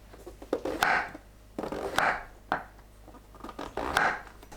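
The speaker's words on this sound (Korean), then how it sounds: "손질한 새송이버섯을 1cm 두께로 썰어주세요" A knife slices king oyster mushrooms into 1 cm thick pieces on a board, giving four or five soft, deliberate cuts, each a brief rasping stroke ending in a tap, close and quiet with no talk.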